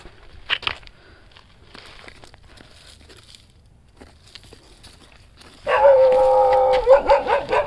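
A dog barks loudly and close by in a rapid, continuous burst near the end, following a few quiet rustles and faint knocks.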